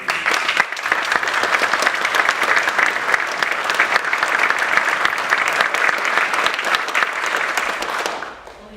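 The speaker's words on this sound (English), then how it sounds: "can we have a round of applause for her?" A council chamber at a full council meeting fills with sustained applause for a councillor, dense and loud, even clapping for about eight seconds before stopping abruptly.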